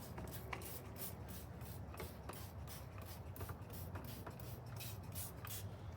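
Water sprays steadily to give a grimy car engine a light wash down, a constant close hissing rush with faint rubbing and splattering textures throughout.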